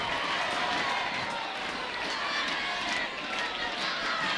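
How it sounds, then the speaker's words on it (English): A loud, sustained roar from a packed crowd at a college ultimate frisbee championship game between UC San Diego and Dartmouth, steady cheering and shouting that fills the whole clip without a break. "And maybe the loudest crowd roar we've heard today."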